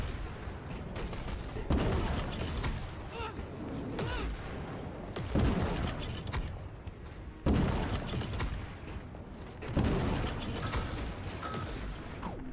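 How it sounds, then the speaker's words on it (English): Rocket launcher fire in the video game Sprawl, with several heavy blasts landing a few seconds apart over a busy mechanical, clattering game mix. "I got my own rocket launcher."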